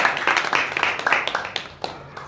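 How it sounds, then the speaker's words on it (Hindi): Applause from a small gathering of devotees at a temple satsang: a patter of hand claps rising and falling for a couple of seconds, fairly near, with no talk over it. "एक बार जोरदार तालियां हमारे राजू जी के"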